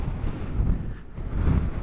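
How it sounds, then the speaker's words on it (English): Strong Storm Ciara wind buffets the microphone with a deep, blustery rumble that surges and dips over a couple of seconds. "to give you an idea of how windy it is"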